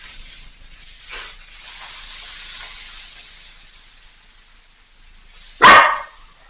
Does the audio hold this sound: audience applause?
no